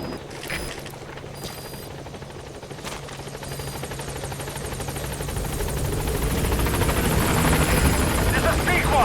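A helicopter in the video game Metal Gear Solid V approaches a landing zone, its rotor chop swelling steadily from distant to loud and close, with brief radio voice chatter and game noises early on.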